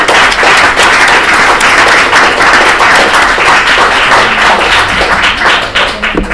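Audience applause after a university lecture by Professor Hernandez, a loud, dense wash of many hands clapping that continues steadily for several seconds and tapers slightly at the end.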